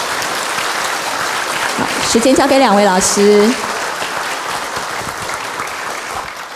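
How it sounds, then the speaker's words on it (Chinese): Audience applause at a Buddhist book launch and forum, steady clapping from a crowd filling the hall while a host's voice speaks over it before the clapping fades. "现在就让我们以最热烈掌声欢迎陈介元老师以及郭弘毅老师。"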